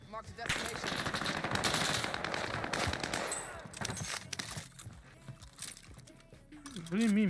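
Sustained automatic gunfire in the Warzone video game, rapid bursts and scattered shots crackling near and loud, thinning out toward the end as a player's voice speaks over it.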